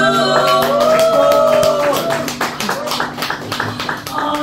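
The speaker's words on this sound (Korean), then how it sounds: "박수." An audience at a book concert claps along to a guitar song, with sharp, rhythmic handclaps beating under the fading melody and a voice talking over them.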